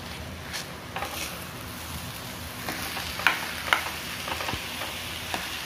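Grated carrot halwa cooking in ghee as jaggery is stirred through, a soft steady sizzle with occasional spoon scrapes and taps against the pan, close by and without talk.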